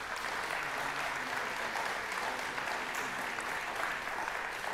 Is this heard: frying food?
no